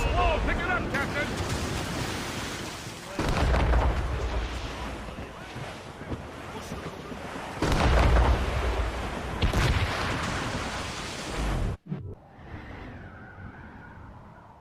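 Stormy seas in Assassin's Creed Rogue: roaring wind and crashing waves around a sailing ship, loud and continuous with surging swells, crew shouting over it, ending in a sudden drop to quiet.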